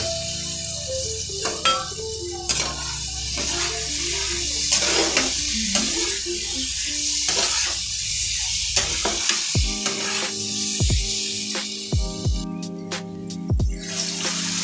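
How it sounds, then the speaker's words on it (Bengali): Potatoes and pointed gourd stir-fried in a pan for a fish curry, a steady loud sizzle with repeated scraping stirs and clinks of the spatula against the pan, close up and without talking. "কষানোর পর আলু আর পটলটা দিয়ে কষিয়ে জল ঢেলে দেবো।"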